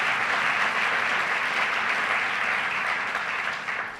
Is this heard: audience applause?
yes